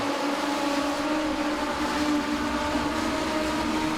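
Legends race cars roar continuously around Langley Speedway during a Masters Division A-Main, a dense blended engine drone heard from a distance with no clear pass-by.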